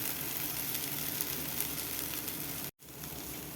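Onions tossed into a frying pan with cabbage and potatoes, a steady close sizzle of hot oil hissing throughout, briefly cut by a momentary dropout before the frying noise resumes.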